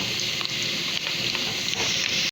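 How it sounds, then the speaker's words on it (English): Onions browning in a pan give a steady, loud, close sizzle with faint crackles throughout and no talking. "So firstly we have to brown the onions."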